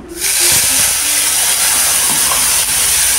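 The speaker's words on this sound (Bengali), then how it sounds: "এই আদা কাঁচা লঙ্কা বাটাটা আমি এই তেলে দিয়ে দেব" Ginger and green chilli paste dropped into hot oil, a sudden loud, close hiss of sizzling that flares up and holds steady for a few seconds, no voices.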